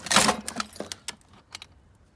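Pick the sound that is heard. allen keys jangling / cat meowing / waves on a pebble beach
allen keys jangling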